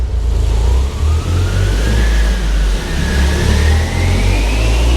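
A Toyota GR Yaris engine roars loudly and steadily during a launch control start, revving upward in pitch as it accelerates hard, with a constant heavy low rumble throughout.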